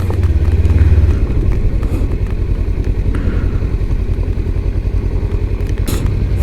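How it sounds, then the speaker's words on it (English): Motorcycles rumble along a road where many bikers have gathered, a loud continuous engine drone with a close pass early on and clattering mechanical texture. "All the bikers who came from below are all here. Some of them ride like crazy."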